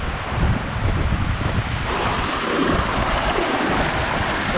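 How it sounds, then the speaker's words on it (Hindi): Sirki waterfall in East Siang, Arunachal Pradesh, roars as a loud, steady broadband rush of falling water, heard up close and alone with no talk. "थिंक पूरे ईस्ट सियांग डिस्ट्रिक्ट का सबसे बड़ा वाटरफॉल है ये।"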